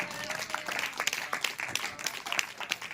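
A church congregation at an Easter Sunday service breaks into scattered, moderately distant applause, with irregular claps rising and falling over a soft crowd murmur throughout.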